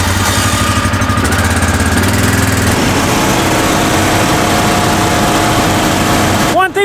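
A tractor engine runs loudly and steadily nearby, a continuous throbbing drone that shifts slightly in pitch partway through, with no break across the whole stretch.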